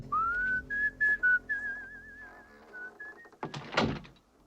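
In the 1985 film Fright Night, a man whistles a steady, slightly wavering tune for a few seconds, then a heavy thunk like a door lands close by.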